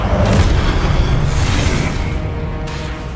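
A Confringo fire spell blast in the video game Hogwarts Legacy: a loud, deep, booming burst with a rumbling swoosh that fades slowly over a few seconds, with no voices.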